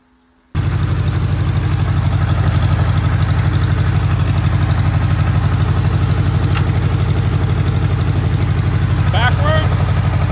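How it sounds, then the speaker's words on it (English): An Oliver OC3 crawler tractor engine runs steadily and loudly up close, a low chugging drone that holds from start to finish, with brief faint squeaks near the end. "I'm back on the tractor. I'm going to try to drive it backwards, see if it goes"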